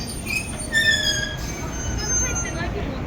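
A used train in Nagasaki rumbles past at moderate distance, its wheels giving off high squealing tones over steady rolling noise that swells and fades slightly across the stretch, with no talk.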